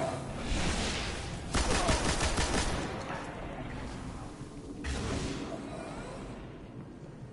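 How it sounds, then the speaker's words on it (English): Rapid bursts of automatic machine gun fire in the shooter game Destiny, heard as two dense volleys about three seconds apart, with faint talk in between. "He was running a machine gun."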